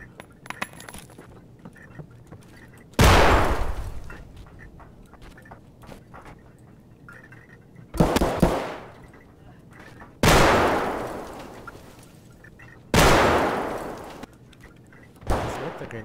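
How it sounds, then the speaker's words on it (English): Grenades explode in Escape From Tarkov, five loud, sharp blasts spaced a few seconds apart, each with a decaying rumble and debris rattle between quieter stretches. "All the grenades going off."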